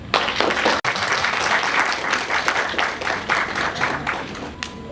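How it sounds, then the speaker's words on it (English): A crowd applauds steadily, dense clapping filling the room for several seconds with a brief dip near the start and no voices over it. "Now let us give her a warm applause."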